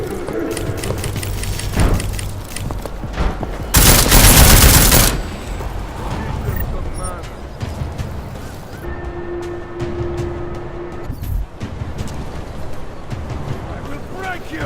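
Gunfire in the video game Deus Ex: Mankind Divided, with bursts of shots, a loud sustained volley in the middle, and game sound effects around it over a steady background.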